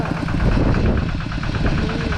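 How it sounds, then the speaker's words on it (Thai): A tractor engine runs steadily at close range, a continuous low, rumbling idle-like drone with slight knocking vibration and no talk over it. "ตอนนี้เขากำลังขี่รถไถ"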